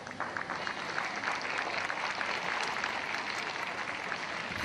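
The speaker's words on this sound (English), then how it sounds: "Applause from the home fans as get another look at this incident" Home fans applaud steadily at a women's W-League football match between Melbourne Victory and Perth Glory, a dense, continuous wash of clapping from a large crowd at moderate distance with no talk over it.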